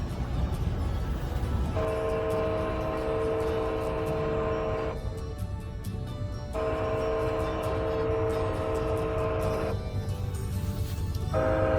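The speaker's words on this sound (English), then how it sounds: "the horn is not coming from the train, it's coming from the speakers" A train horn played through speakers on the train sounds in two long, loud blasts separated by a short pause, over steady rumbling of rail cars nearby.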